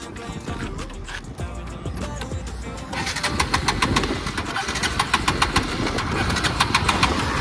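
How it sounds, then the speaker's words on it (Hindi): A 2019 Bajaj Pulsar NS200 BS4 motorcycle, out of petrol and stopped beside a highway, is cranked without catching: a steady run of rapid mechanical pulses that grows louder midway and never settles into an idle. "गाड़ी जो है बिल्कुल भी स्टार्ट नहीं हो रही है। मैं दिखाता हूँ अभी।"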